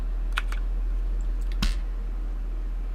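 Computer keyboard keys are pressed for a Premiere Pro shortcut, a few quick close clicks in a small cluster, then a single sharper press after a short pause over a low hum.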